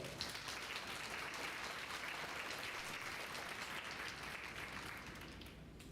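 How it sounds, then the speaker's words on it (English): Audience at a graduation ceremony applauds the instructors, a steady wash of many hands clapping from a distance that holds evenly and then tapers slightly at the end. "So please, let's give our instructors a round of applause."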